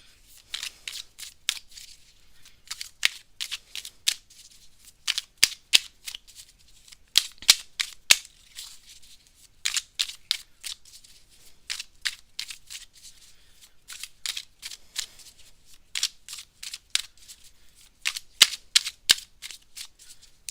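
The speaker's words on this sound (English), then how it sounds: "I'm going to start shuffling these cards up and get these energies for you" A deck of tarot cards is shuffled over and over, with crisp riffling bursts and sharp flicks coming in uneven clusters, close and clear against near silence.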